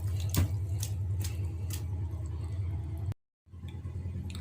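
Running tap water splashes steadily over a banana stem being washed, a continuous low rush with a few brief splashes, near and alone, cutting off briefly near the end.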